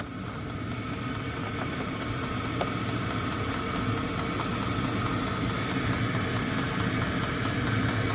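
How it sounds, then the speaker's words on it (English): An Hcalory diesel heater in an off-grid shed running with no muffler, giving a loud, steady, droning rumble with a fast repetitive ticking pulse throughout. "see just how noisy things get. We are running with no muffler."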